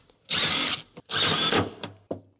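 A drill drives self-tapping sheet metal screws into a piece of quarter-inch birch, two loud whirring bursts close by with brief clicks between and after, no talking.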